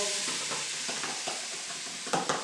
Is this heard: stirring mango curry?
yes